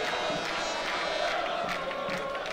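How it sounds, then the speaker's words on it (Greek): Kavala football fans roar in a stadium as their team wins a corner kick, a dense, steady crowd noise with shouting and a little clapping mixed in. "ξεσηκώνει και το πλήθος των κόσμο της Καβάλας για αυτό το στημένο"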